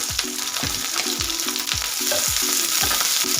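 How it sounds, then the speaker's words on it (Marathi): Cut green chillies fry in hot oil with a steady, loud sizzle, while a spatula scrapes the pan in regular, evenly spaced strokes throughout, with no speech. "ह्या कट करून मिरच्या घेतलेल्या आहेत ना तेलामध्ये आपल्याला एक दोन मिनटं फ्राय करून घ्यायचे"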